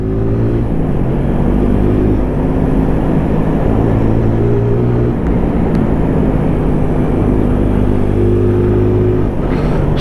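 Sinnis Apache SMR 125 motorcycle ridden on country lanes, a buzzing single-cylinder engine note that rises and drops through gear changes, close and loud with wind rush, no talk.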